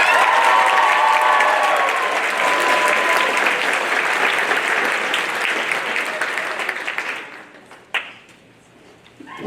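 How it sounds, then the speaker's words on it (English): An awards ceremony audience for grade 9 nominees and recipients gives a loud, sustained round of applause that fades out over about eight seconds, leaving near silence with a single late clap. "Let's show a big round of applause for all of our grade 9 nominees and recipients."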